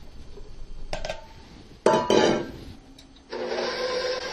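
An electric mixer works cake batter for a raspberry Bavarian torte on low speed: a few clinks and knocks against the bowl, then a steady whirring hum that settles in and continues to the end.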